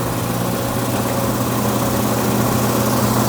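A BDG Compact 1 mini granulator chews through 14 and 12 gauge stranded wire, a loud, close, continuous mechanical roar and rumble with steady grinding vibration.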